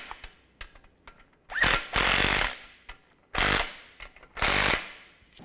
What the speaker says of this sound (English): Now we can tighten these bolts down.